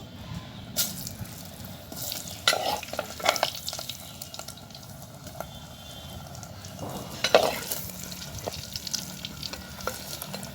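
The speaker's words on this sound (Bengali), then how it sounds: "এবার আমি আলুটায় হালকা হলুদ মাখিয়ে দিয়ে ভালো করে ভেজে নেব।" Raw potato pieces coated in turmeric fry in hot oil and are stirred now and then, a steady sizzle with a few sharper scraping strokes, heard close with no talking.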